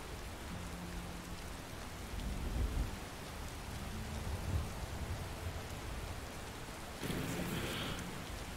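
Steady rain falls in a video game while a character walks through it, with low thunder rumbling underneath. The rainfall sounds like a continuous, fairly faint hiss, with soft swells and a brief louder burst near the end.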